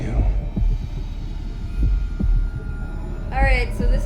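A heartbeat effect from the TV drama Hannibal pulses low and steady, about two beats per second, under a constant droning hum, with a brief tonal sting near the end.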